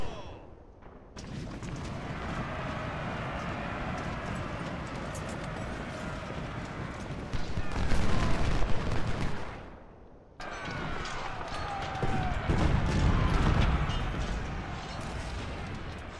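Musket volleys from Ultimate General's Civil War-era Union campaign roll as a continuous, rumbling crackle of massed fire, swelling louder in two waves with a brief lull between them.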